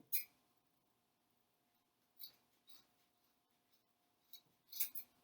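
Scissors snip through craft material in a few short, quiet cuts, close up, with brief pauses between the snips and a soft clustered pair at the end.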